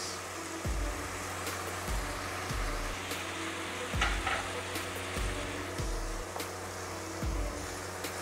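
Soy sauce, vinegar and green chilli sauce sizzle as they are stir-fried with vegetables for Indo-Chinese chicken fried rice, a steady hot hiss broken by rhythmic scraping strokes of a spatula in the pan about once a second.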